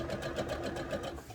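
A sewing machine stitches the seams of wrestling tights in a quick, even run of mechanical pulses, close and steady, with no talking.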